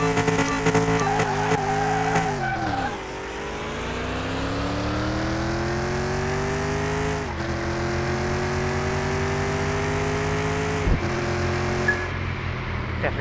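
Car launching with wheelspin at a drag race in Car Mechanic Simulator 2021, with a loud, sustained engine drone that climbs in pitch through each gear, dropping sharply at the shifts around three, seven and eleven seconds.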